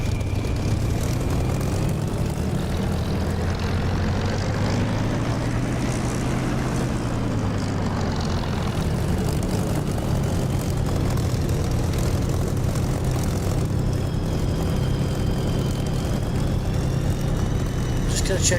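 A propeller aircraft engine in the DCS flight simulator drones loudly and steadily, its pitch rising and falling as it runs up, with a voice talking over it.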